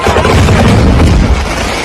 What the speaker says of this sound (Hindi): ये जोरदार धमाका हो गया।